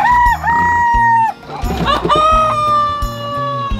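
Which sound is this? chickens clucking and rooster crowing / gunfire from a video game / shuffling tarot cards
chickens clucking and rooster crowing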